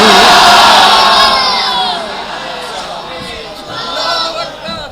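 A crowd at a religious speech shouts and chants slogans loudly and close, with the roar fading in the middle and then swelling again toward the end.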